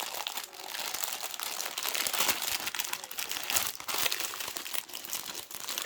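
Plastic packaging on a cross-stitch kit crinkles and rustles continuously up close as it is handled and opened, a dense, fairly quiet crackling with no talking.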